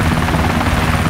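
Constant heavy rotor-and-engine drone of an aircraft in the game DayZ, loud and close, holding an unbroken humming roar throughout.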